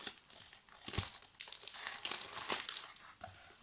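Packaging crackles and crinkles at close range in quick irregular bursts as a notebook with an elastic band is unwrapped, with no voices.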